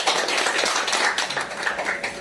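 Applause from an audience at a Korean media forum debate as a guest is introduced: dense, steady clapping from many hands, loud and sustained throughout.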